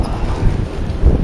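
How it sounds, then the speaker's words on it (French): A short, loud gust of wind rumbling and buffeting against the microphone, low and continuous without any voices. "C'est le vent qui se lève."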